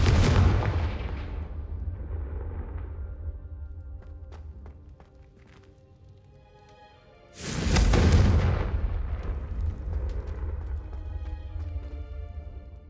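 The Confringo explosive fire spell in the Hogwarts Legacy video game goes off in two heavy booming blasts, the first fading into a long low rumble before a second loud detonation rolls out and decays.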